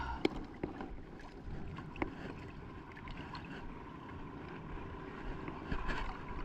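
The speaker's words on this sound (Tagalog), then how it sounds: "Lakas ng hangin." Steady broadband wind rushing across the microphone with a low rumble, constant and fairly loud, with a few faint knocks and splashes, no talking.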